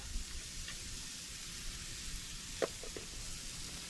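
Pounded deer meat sizzles in a hot pan with a steady, faint crackling hiss, broken by a few brief louder pops.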